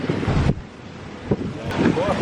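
Gusty wind buffets the microphone in broadband rumbling bursts, with a few brief voices in the background.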